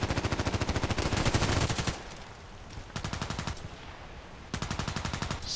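Repeated single shots of game gunfire in Contract Wars, a first-person shooter, come as steady rapid bursts of sharp cracks. Three clusters of shots are separated by short quieter gaps, loud and close, with no talking.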